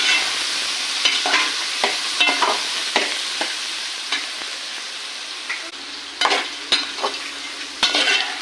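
Cashews, tomatoes and masala are stirred in a pan for paneer butter masala, with a steady soft sizzle broken by repeated scraping strokes and spoon clinks, close and without talk.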